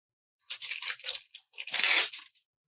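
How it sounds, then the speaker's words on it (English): Clear abstract art stickers for a planner being handled, peeled and crinkled in two short bursts of crisp plastic rustling, close and fairly loud, with no talking. "I've got some of these abstract art, clear stickers that I can lay down"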